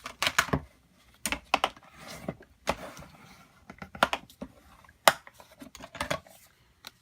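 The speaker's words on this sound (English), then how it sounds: "now I'm going to fold it in half and score it, and burnish" Card stock for a Christmas place card with treat holder being folded in half, scored and burnished: a run of short, close scraping and tapping strokes in uneven bursts, separated by brief quiet gaps.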